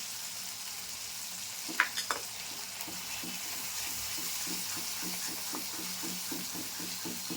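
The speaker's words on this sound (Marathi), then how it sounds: "छानपैकी असं थोडंसं 1-2 मिनटं सगळा मसाला तेलात भाजून घ्या" Masala and red chili powder roasting in oil for chole: a soft steady sizzle with regular spoon scrapes and stirring strokes, a few louder clatters near the start, no voices.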